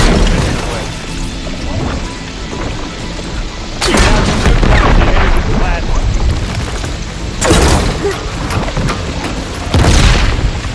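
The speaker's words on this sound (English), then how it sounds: "Kaboom!" Explosions in the video game Horizon Forbidden West: several loud, broadband booming blasts with crashing debris arrive in bursts over rumbling action sounds, with speech mixed in.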